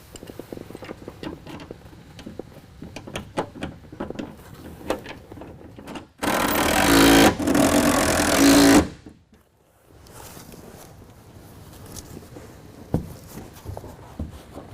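A T40 driver reinstalls a tie-down cleat in the bed of a 2017 Ford F-250, with a loud, close burst of power-driver buzzing lasting a few seconds amid lighter clicks and handling noises.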